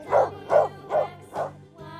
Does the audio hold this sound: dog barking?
yes